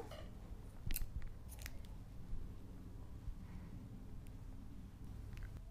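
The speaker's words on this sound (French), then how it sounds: "on va couper le fil" Scissors snipping knitting yarn at the end of a child's mitten, a few quick close metallic cuts over a quiet room with no speech.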